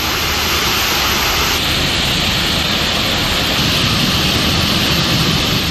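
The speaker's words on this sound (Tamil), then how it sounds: "இந்நிலையில் தற்போது அருவியில் வெள்ளம் பெருக்கெடுத்து ஓடுகிறது" A flooded waterfall at Kumbakkarai thunders with a loud, steady, close roar of rushing water that never lets up.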